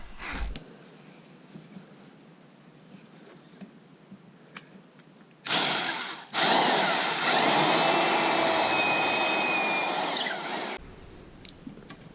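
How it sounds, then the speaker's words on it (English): A few quiet clicks and taps, then an electric drill whirs through a homemade dowel jig into cedar in two bursts, a short one followed by a longer, loud steady run, then stops. "I'm just using a homemade dowel jig to drill holes to install dowels."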